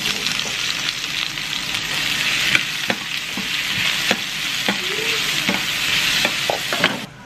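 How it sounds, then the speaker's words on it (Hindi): Onions frying in a hot pan for mixed dal, a steady broadband sizzle running throughout with scattered clicks and taps of stirring, close and loud with no talk. "अभी हम डाल देंगे अनियन"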